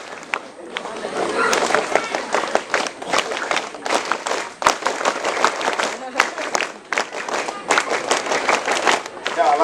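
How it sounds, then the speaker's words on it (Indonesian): A group of people performs the Indonesian scout clap in a rhythmic burst of sharp, loud, patterned handclaps, several quick sequences with brief pauses and some voices calling along. "tepuk pramuka"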